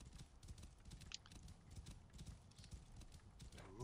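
Horse hooves clip-clop in Assassin's Creed Origins, a steady rhythmic trot of quick hoofbeats, quiet and continuous under game ambience, with a brief whinny near the end.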